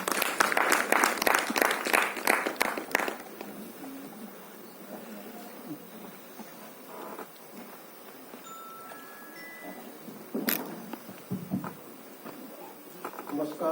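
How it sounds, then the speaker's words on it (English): Audience applause at a formal event, a burst of dense clapping for the first few seconds that quickly fades out, with faint room noise and scattered sounds afterward. "A round of applause for Sir."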